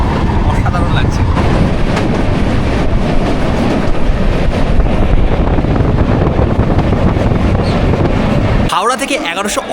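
Chambal Express passenger train on the Howrah to Mathura route, nearing Jhansi, rumbling steadily with close wheel clatter and wind buffeting, loud and continuous, with a voice faintly under it and a sharp change in the last second.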